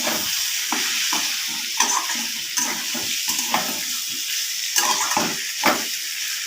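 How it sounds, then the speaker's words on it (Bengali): Pumpkin and potato curry being sautéed and stirred in a pan, a steady close sizzle with repeated scraping strokes of a spoon, no voices. "আর একটু কষিয়ে নেব ভালোভাবে কষানো হয়ে গেছে কুমড়ো আলুটা"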